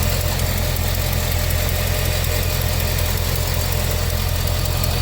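A Cadillac engine idles steadily after an exhaust leak repair, its electric cooling fans whirring in a constant loud drone with a low engine hum underneath and no voices.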